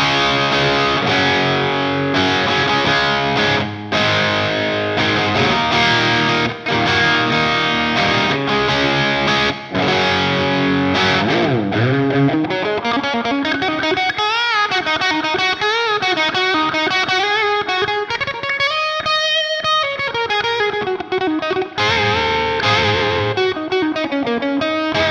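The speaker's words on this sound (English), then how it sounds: "for the clean channel, you can also use the aggression button, which actually gives you more of an overdriven type of tone" Overdriven breakup tone from the Audio Assault RVXX EX guitar amp plugin on its clean channel with the aggression button engaged: a loud, continuous electric guitar passage of chords and then bending single-note lines, with no talking.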